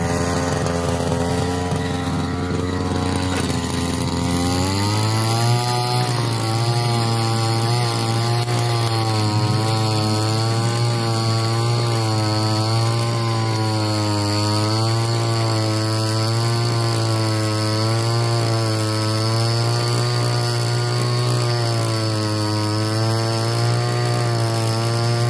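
A soil tiller attachment driven by a lawn mower engine, which can be two-stroke or four-stroke, runs loud and steady throughout. It idles briefly, then revs up into a rising, slightly wavering drone.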